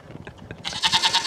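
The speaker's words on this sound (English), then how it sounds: "now you hear my goats are going crazy" Several female goats in heat bleat loudly and repeatedly, in a rapid run of calls close by, starting after a brief stretch of quieter low animal noise.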